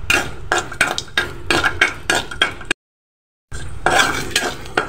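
Radhuni spice seeds cook in a little oil as a spatula scrapes the pan in quick repeated strokes, with faint sizzling underneath and a brief silent break before the stirring resumes.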